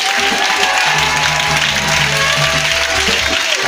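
An audience at a Christmas 2020 church seminar in Bregbo applauds and cheers in a loud, continuous roar of clapping, with a low droning tone steady beneath it.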